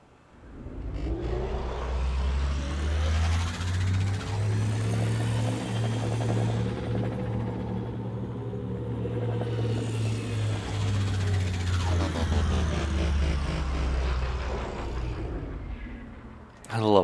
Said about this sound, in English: just listen to the beautiful sound effects of this engine in this game